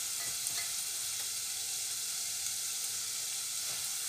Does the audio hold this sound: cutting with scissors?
no